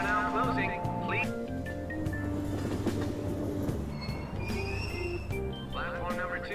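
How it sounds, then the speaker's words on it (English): A subway train in Persona 5 Royal pulls out of a Tokyo station, a rumbling rail hum with squealing wheels and rhythmic clatter rising and falling, alongside station voices and tones. "Platform number 2, service to Asakusa is departing soon."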